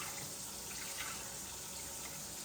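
A cup of water poured into a cooking pot with onion powder, a steady, soft splashing hiss that runs evenly for the whole two and a half seconds with no voice over it.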